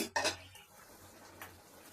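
A metal pot lid lifts off simmering vegetables with a sharp clink and short rattle near the start, then a faint clatter of cookware fades into quiet kitchen background.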